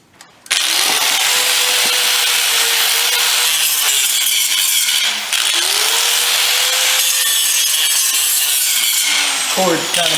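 An angle grinder works over the gas tank of a 1983 Jeep CJ5, a loud continuous rasping grind with shifting pitch that runs nearly the whole time, dipping briefly near the middle before resuming close to the tool.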